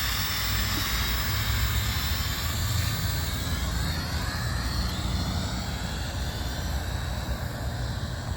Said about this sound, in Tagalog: nakita nyo kung paano ko pinalipad yung drone